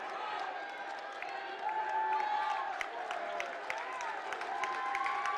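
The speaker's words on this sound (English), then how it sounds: "Look at standing ovation by the crowd on sophomore night in a completely dominating performance." A crowd at a women's college basketball game between Casper and Sheridan gives a standing ovation, with steady applause and cheering filling the gym at moderate distance under ongoing commentary.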